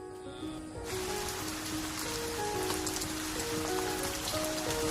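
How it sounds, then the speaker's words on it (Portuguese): Steady rain falling across the Liuwa Plain in Zambia, a dense continuous hiss of drops on the ground that swells slightly after the first second and stays loud throughout, with faint tonal sounds underneath. "As chuvas estão agora em pleno fluxo e a paisagem completa sua transformação."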